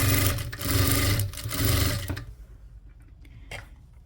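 Sewing machine stitching a doormat made from leftover old clothes, folded at the corner, running in a steady loud motor whir for about two seconds, then stopping, with faint handling sounds after.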